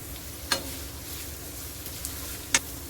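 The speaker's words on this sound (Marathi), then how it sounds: "कांदा चांगला आपल्याला परतून घ्यायचा आहे" Chopped onion fries in a pan with hot chili for a spicy egg dish, making a continuous soft sizzle with two sharp utensil clicks against the pan.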